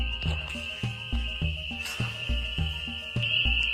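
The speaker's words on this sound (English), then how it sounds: "It's so loud over here by the swamp. Spring peeper." Spring peeper frogs call by a swamp, a dense, loud chorus with a sustained shrill tone over a steady pulsing rhythm of lower croaks, nearby and continuous with no talk.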